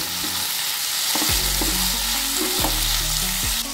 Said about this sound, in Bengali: আলু বেগুনটা দিয়ে দিয়েছি, দেখুন এর সাথে একটু কষিয়ে নিচ্ছে আবার হালকা করে।